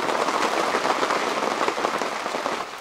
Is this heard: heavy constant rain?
yes